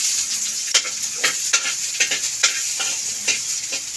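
Garlic and onion fry in an oiled pan with a steady loud sizzle and hiss, punctuated by regular sharp taps and scrapes of a utensil stirring through the mixture.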